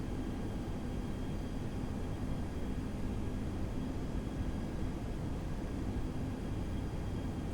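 Airbus A319 airliner in the X-Plane 11 flight simulator, a steady broadband engine and airflow roar holding at an even level throughout, with no voices.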